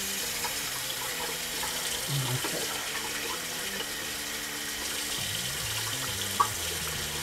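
Hot water runs steadily from a tap to rinse a razor after shaving, a continuous hissing flow with a short spoken word near the end.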